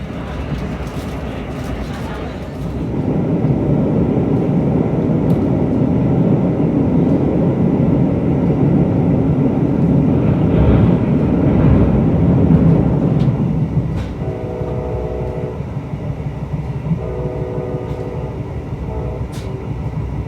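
Brightline passenger train rolling north toward Orlando, a steady loud rumble heard from inside the car that swells around the middle, then eases to a quieter ride with a repeating tonal chime-like pattern near the end; no clear talk.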